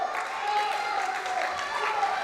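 Crowd at an East Coast Pro Wrestling show applauding and cheering, a steady wash of clapping with a sustained tone running through it, heard at moderate distance throughout.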